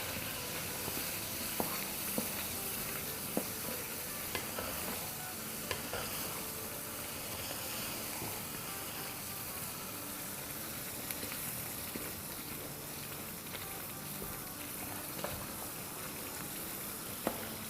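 Boneless chicken karahi sizzles steadily in a hot pan, a continuous frying hiss with occasional stirring clicks and scrapes running the whole way through, no voices.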